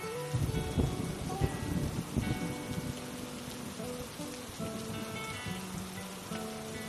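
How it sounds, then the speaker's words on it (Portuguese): Rain patters steadily on surfaces nearby, a soft continuous wash of drops with faint background rumbling. "apenas aprecie a beleza dessa chuva"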